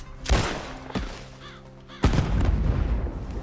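Gunfire from guns in a video game: a few loud, booming shots with thudding low ends, separated by short pauses, the last blast trailing into a sustained rumble.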